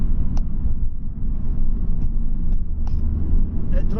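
A 2004 Vauxhall on the move, heard as a steady low engine and road rumble from inside the car, continuous throughout with no talking.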